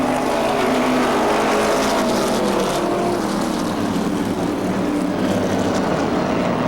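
Late model stock cars race around Seekonk Speedway, a steady loud engine roar with a dense crowd-and-motor wash filling the whole stretch and no clear pass-bys standing out.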